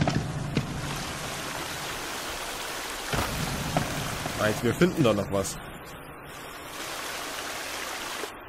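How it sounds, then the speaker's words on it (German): Rushing waterfall in the survival video game The Forest, a steady broadband roar of falling water that fills the whole stretch, with people talking and a few brief sharper sounds over it midway. "Ich hasse diesen Wasserfall."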